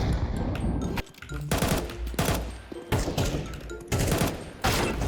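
Rapid automatic gunfire from a rifle in the shooter game Counter-Strike 2 rattles loud and close in several sustained bursts separated by short gaps.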